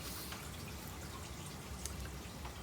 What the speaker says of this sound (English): we have water coming down from the washroom